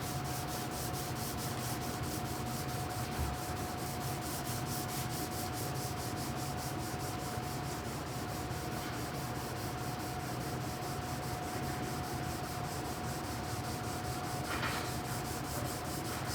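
Steady, continuous sanding hisses close up without pause, an even abrasive rush with a faint constant hum beneath it.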